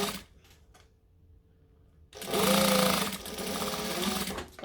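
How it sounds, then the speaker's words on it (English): A sewing machine stitches a jacket seam, starting with a back stitch. After a quiet pause it runs steadily and loudly for a few seconds, with a sustained mechanical whir and rapid needle chatter. "I'm just going to start from the end. So I'm going to start about half an inch from the end, stitch, back stitch,"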